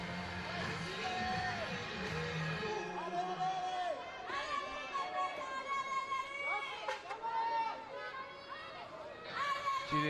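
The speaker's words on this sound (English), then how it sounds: "you might be able to hear through our microphones, a French crowd giving her plenty of encouragement" French spectators cheer and shout encouragement for a female climber on a bouldering World Cup semi-final in Wujiang, a continuous crowd babble with rising whistles and calls over arena ambience.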